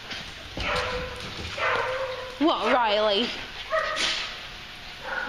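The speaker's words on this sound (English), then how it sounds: "Maybe you shouldn't bark so loud." Dogs at a doggy daycamp give a few short barks and yips amid steady background noise, mixed with close talk from a person nearby.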